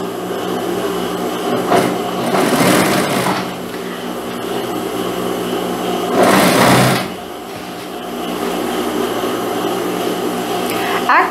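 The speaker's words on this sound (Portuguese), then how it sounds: "já venho aqui fazendo a costura da manga" A sewing machine stitches the sleeve seam of a sport-collar jacket with a loud, close, continuous motor hum. The pitch and intensity surge during two faster bursts of sewing.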